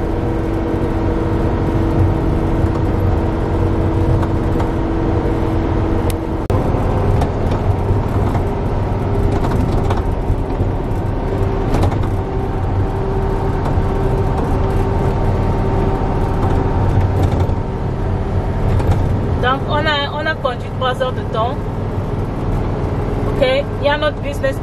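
A truck drives along the road from Omaha to Kansas City, a steady low engine hum and road rumble running throughout beneath people talking inside the cab.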